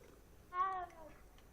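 A cat in a wizard video game gives a single short, rising-and-falling meow, close and clear, lasting about a third of a second against a quiet background.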